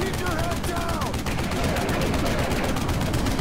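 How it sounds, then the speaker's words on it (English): Rapid automatic gunfire in Duke Nukem Forever, a dense, steady rattle of shots going on without a break, with a voice speaking over it. "This gun effect is so shit."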